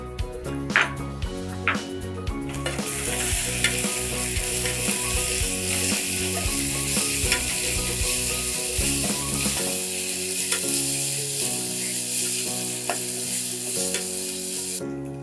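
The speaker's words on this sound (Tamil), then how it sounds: "இப்போ இஞ்சி பூண்டு பேஸ்ட் போட்டுக்கலாம்." Ginger garlic paste sizzles loudly in a pan with browned onions for a chicken gravy, while a spoon stirs and scrapes at intervals. Background music plays throughout.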